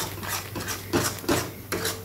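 Ground cumin and coriander being stirred into oil in a pan, a soft continuous scraping and rubbing of a utensil against metal with a few louder strokes, close up and fairly quiet, with no talking.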